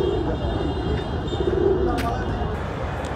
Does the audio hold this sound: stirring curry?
no